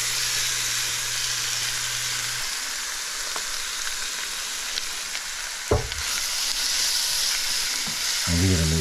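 Shrimp frying in melted butter in a pan make a steady, close sizzle that runs throughout, with a brief sharper crackle and stir near the middle as the shrimp go in.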